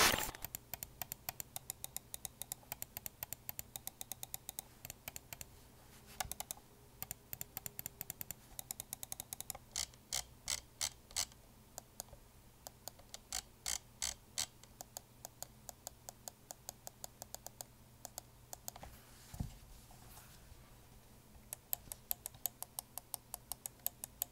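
Rapid, quiet clicking of Vaxee Zygen NP-01 computer mouse buttons in bursts and pauses, crisp and close, with no talking.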